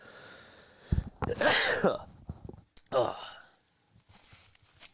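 A commentator sneezes once during a live Philadelphia 76ers versus Cleveland Cavaliers basketball play-by-play, a sharp close burst with a breathy tail, set against quiet background and a few short vocal noises.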